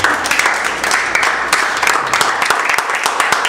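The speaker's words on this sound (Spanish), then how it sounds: "Den un aplauso al Señor." A church youth service congregation applauds together, a sustained, dense wash of clapping from many hands at steady loudness, with a few voices mixed in.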